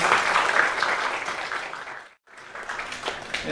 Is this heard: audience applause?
yes